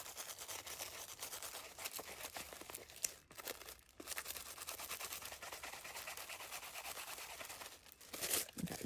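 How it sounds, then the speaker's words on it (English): A toothbrush is scrubbed over transfer foil on the underside of a baseball cap bill, giving quiet, close, rapid brushing strokes that continue without pause. "you can use a toothbrush as I'm working with"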